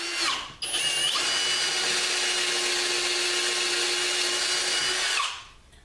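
A power trimmer grinds against the end of a brass tube with a steady, loud whine that starts abruptly, holds level for about four seconds, then cuts off and winds down.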